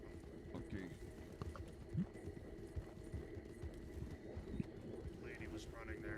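Horse hooves clip-clop steadily through a game world in Red Dead Redemption 2 on a WildRP server, a busy rhythmic patter under ambient noise with brief whinny-like accents, while people talk over it.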